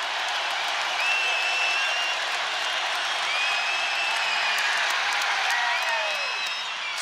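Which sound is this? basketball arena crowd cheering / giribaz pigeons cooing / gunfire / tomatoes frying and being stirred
basketball arena crowd cheering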